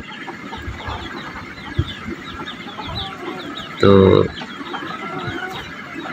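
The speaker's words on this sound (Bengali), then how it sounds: "ওইটা হচ্ছে আমার মোরগ" Chickens and a rooster cluck nearby while someone speaks, with a louder squawk from the birds partway through.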